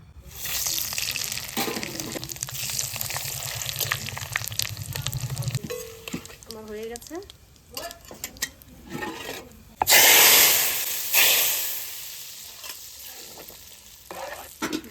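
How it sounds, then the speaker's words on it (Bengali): Panch phoron, dried red chillies and bay leaves tempering in hot oil for khichuri, a steady sizzle with stirring and scraping in the pan, then a sudden loud burst of hissing and spitting near the end. "তা খিচুড়ির ফোড়নে দেবো পাঁচ ফোড়ন শুকনো লঙ্কা তেজপাতা"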